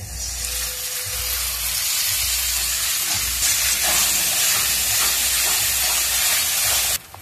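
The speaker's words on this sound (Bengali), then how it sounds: "এবারে বেটে রাখা ঝিঙেটা দিয়ে দিচ্ছি" Ground ridge gourd hitting a hot pan of spiced masala, a loud, steady, close hissing sizzle that holds evenly before cutting off abruptly near the end.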